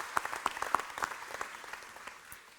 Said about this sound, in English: We can give an applause for their hard work.